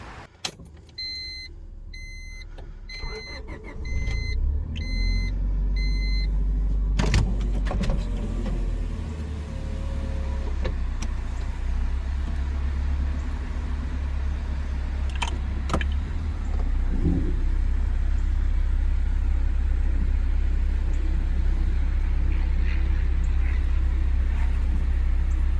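An old sedan's engine is started and driven with the throttle floored. Some clicks and jangles come first, then a steady loud engine drone with a few sharp knocks runs on throughout, and no one talks.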